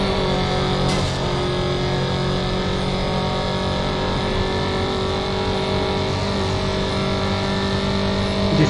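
A Dodge car accelerates hard in the racing game Need for Speed Carbon, a loud, sustained engine roar climbing steadily in pitch from start to end with no break.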